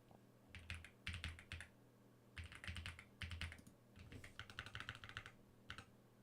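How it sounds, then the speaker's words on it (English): Fingers type on a computer keyboard during a live coding session, quick bursts of clicky keystrokes separated by short pauses, close and fairly quiet. "While I'm typing this stuff up"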